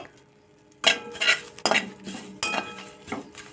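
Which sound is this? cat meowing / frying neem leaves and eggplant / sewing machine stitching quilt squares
frying neem leaves and eggplant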